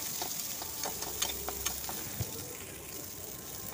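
Onions fry in a pan for an egg and cauliflower curry, giving a steady, close sizzle and crackle throughout with no one talking.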